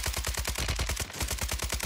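Rapid automatic SMG fire in Warzone 3, a steady stream of sharp, evenly spaced shots, about ten per second, loud and close for nearly two seconds with a brief gap midway.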